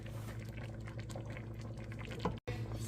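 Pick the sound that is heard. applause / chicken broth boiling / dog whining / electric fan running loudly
chicken broth boiling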